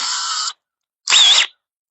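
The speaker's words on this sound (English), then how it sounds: "I got a 1/4 inch drill bit here," A power drill with a quarter-inch bit whirs in two short bursts, the second slightly louder, with a brief silent pause between them.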